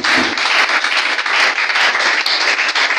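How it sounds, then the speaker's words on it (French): An audience in a church applauds with continuous, dense clapping that stays loud throughout, with no voices over it. "Acclame Jésus"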